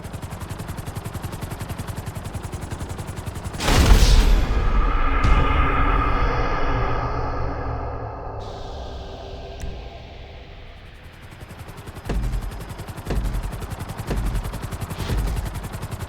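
A helicopter in Grand Theft Auto 5 gives off a continuous rapid rotor chop, with a sudden loud rushing burst early on before the steady beating carries on.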